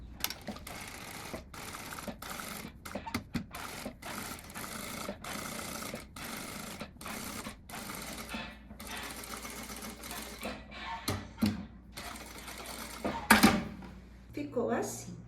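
Sewing machine topstitching a blouse, a fast rhythmic mechanical stitching rattle running in steady bursts with brief stops, close by, while someone speaks throughout.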